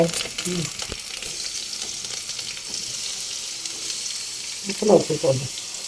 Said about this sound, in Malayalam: അപ്പൊ കറിക്ക് വേണ്ടി ആദ്യം നമ്മള് ഉള്ളി ഇടും അല്ലെ